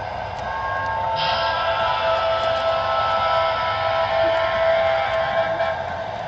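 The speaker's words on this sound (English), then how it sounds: "One of my locomotives in the yard is on." A model train locomotive hums steadily on a small loft layout, a continuous mechanical whine with faint whistle-like tones layered over it, moderately loud and alone throughout.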